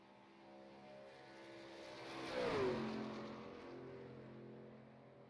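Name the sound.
race truck engine from a sim racing video game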